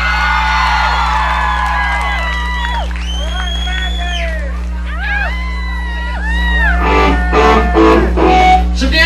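Concert crowd cheering and whooping for the guitarist at a 1979 show, with shouts and sung tones over a steady low hum, swelling louder near the end.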